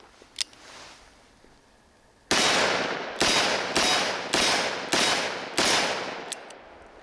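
Six loud gunshots from a Smith & Wesson Performance Center Model 19 Carry Comp revolver firing .357 Magnum ammunition, spaced roughly a second apart after a brief quiet lead-in, each blast decaying sharply.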